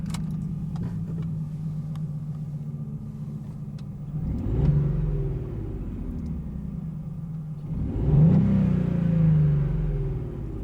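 A 2018 Volkswagen Up GTI with a cabin sound actuator holds a steady low idle, then surges through two short revs that swell and fall back, heard up close with no talking.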